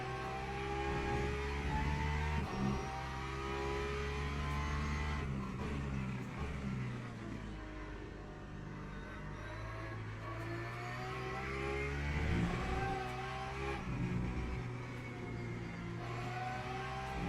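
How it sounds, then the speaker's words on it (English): Porsche race car lapping Spa in Le Mans Ultimate, engine droning steadily with rising and falling revs through gear changes, continuous and close with no voices. "But I like how the Porsche rotates on the entry."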